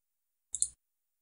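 A single short, crisp computer mouse click sounds close and clear against silence while working in Explaindio 3.0 slide editing software.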